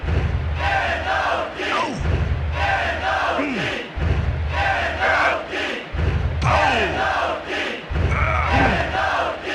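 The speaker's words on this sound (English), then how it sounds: "Listen to this crowd. What's going on here?" A large arena wrestling crowd in the video game WWF War Zone (PS1) roars and cheers continuously, swelling and dipping in waves, with chanting and occasional thuds underneath.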